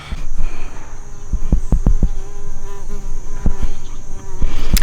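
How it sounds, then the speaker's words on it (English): A bee buzzes close by in a garden among fall planters of lavender and perennials, a steady insect drone with soft thumps and rustles, with no talking. "I was hoping the bee would do the ending for me."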